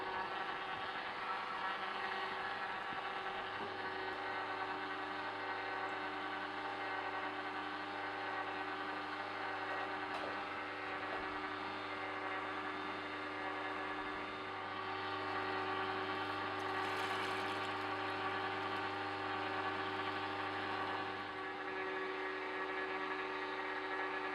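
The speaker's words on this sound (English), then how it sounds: "So I'm juicing 5 oranges here" A Sana Horeca commercial juice extractor juices oranges, a steady motor hum with tonal whine that runs evenly throughout, moderately loud and close, with no speech.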